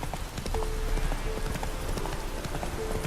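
Roach, a horse in The Witcher 3, clip-clops along with steady, evenly spaced hoofbeats at a walking pace, close and clear over a faint ambient game backdrop.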